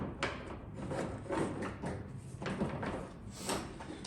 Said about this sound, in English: I'm going to go ahead and slide the door on now.